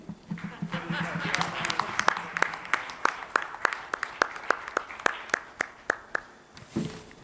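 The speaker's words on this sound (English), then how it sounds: "a huge round of applause for our esteemed panelists and for the wonderful session" Clapping at a National Sustainability Conference session honouring its panelists: sharp, evenly spaced claps that thin out toward the end, with talk underneath at the start.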